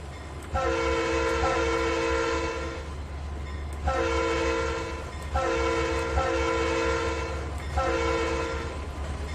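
Diesel locomotive horn in the Trainz 2019 railroad simulator, sounding four short, loud toots in a row over a steady low engine rumble on a CSX private line.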